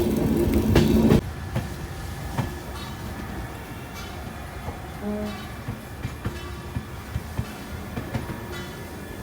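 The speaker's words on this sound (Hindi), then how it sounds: "ये देखिए क्या अपनी ट्रेन कर्व ले रही है" An Amrit Bharat Express train rounds a sharp curve on its inaugural run via Saharanpur, with steady rolling rumble, recurring wheel clicks and a faint flange squeal, heard from inside and stronger at the start.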